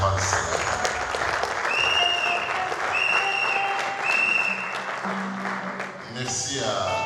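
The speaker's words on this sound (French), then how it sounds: "Est-ce qu'on peut les encourager en acclamant le Seigneur?" A church congregation applauds its worship team at a tenth-anniversary service of an evangelical centre, with sustained clapping and cheering from a full room while a voice speaks over it and tones ring out.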